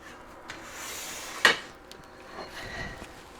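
One of three metal cake pans gives a single sharp clink as it is handled while cake batter is divided among them, set against faint kitchen rustling and scraping with no talking.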